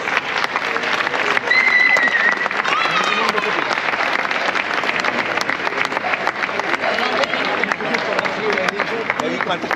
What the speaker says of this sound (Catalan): Un fort aplaudiment.